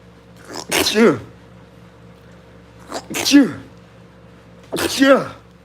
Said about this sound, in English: I have to sneeze, hold on.